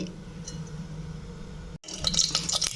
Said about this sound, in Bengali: এবারে সেদ্ধ করা ডালটা দিয়ে দিলাম অল্প তেল